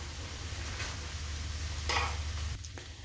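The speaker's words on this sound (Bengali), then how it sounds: "এবার এটাকে আমি ভালো করে নাড়াচাড়া করে নিচ্ছি।" Fried rice being stirred in a pan, a soft steady sizzle with a low hum and a few brief scraping or clinking accents, no talking.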